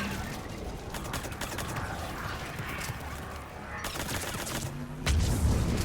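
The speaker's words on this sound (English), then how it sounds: "We're taking heavy fire from the second story." Dense, sustained gunfire in the video game Mass Effect 3, a loud continuous clatter of overlapping shots with a heavier blast toward the end.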